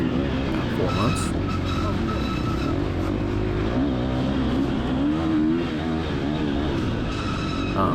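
A KTM 350 XCF four-stroke dirt bike racing at an off-road event, its engine droning steadily and revving up and down throughout, with some faint talk underneath.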